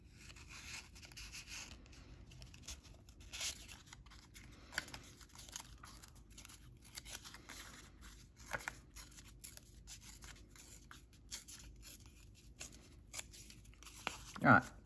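Scissors snip and trim a paper tag for a junk journal pocket, a series of faint close cuts and rustles of paper, with a loud crinkle near the end.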